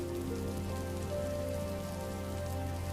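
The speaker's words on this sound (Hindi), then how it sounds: "ये बारिश तो बढ़ती ही जा रही है।" Heavy rain pours steadily over a village with crops in the fields, a dense, constant hiss of drops hitting surfaces that stays level throughout, with no voices.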